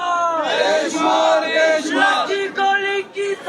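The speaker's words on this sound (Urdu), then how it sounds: "اس وقت عمران خان کے حامی یہاں پر پہنچ چکے ہیں اور شدید نعرے بازی کر رہے ہیں" Imran Khan supporters, joined by lawyers, chanting political slogans outside the Lahore High Court, a crowd of voices calling out in rising and falling unison, loud and close, with repeated shouted phrases.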